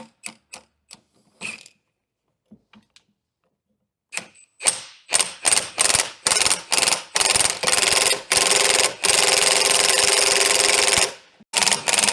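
Sharp metallic hammer strikes on a commercial truck yoke, driving a U-joint cap out with a pressing tool: scattered single hits at first, then a fast run of loud ringing blows that merge into continuous clatter.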